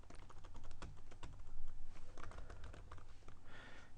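Fingers tap a computer keyboard in quick, uneven bursts of close, crisp key clicks, with no talking.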